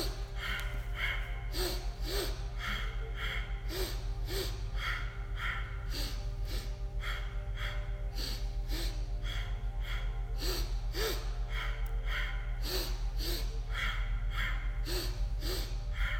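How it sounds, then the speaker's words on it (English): Deep breathing in and out, with soft, regular breath pulses repeating roughly every second over a steady, droning musical background. "Inhale, inhale, exhale, exhale."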